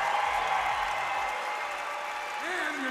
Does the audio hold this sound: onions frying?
no